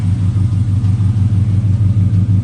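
A rebuilt junkyard car engine with aftermarket parts idles through its exhaust in a deep, loud, pulsing rumble, even and close, with no talking.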